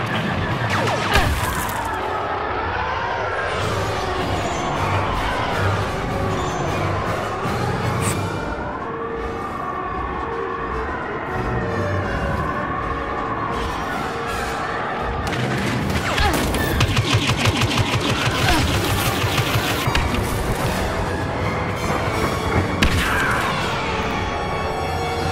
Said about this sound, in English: AT-ST incoming. It's equipped with heavy artillery. TIE fighters closing on your position.